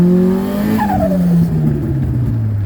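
A Honda Civic engine pulls hard in second gear, its pitch climbing steadily with a rising whine and rough exhaust note, loud and close throughout.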